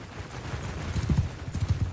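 Cavalry horses gallop across a battlefield in the medieval combat game Mount & Blade II: Bannerlord, a rapid rhythmic drumming of hooves that rises in bursts over a low background rumble, with no voices.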